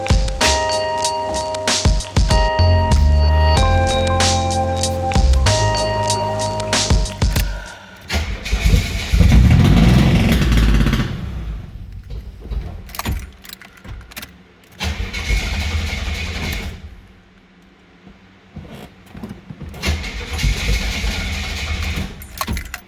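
A 1983 Buick Regal engine starting for the first time in five years: rhythmic cranking for several seconds, then a rough catch and roar that falters, dies, and revs up again in uneven bursts.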